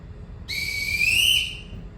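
A single sharp whistle blast, blown to summon household staff in a stage production, rises and holds for about a second and a half over low background noise, loud and close.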